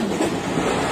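A passenger train runs on its rails with a steady, continuous rumble of wheels and carriage noise, heard close and loud throughout, with no voices.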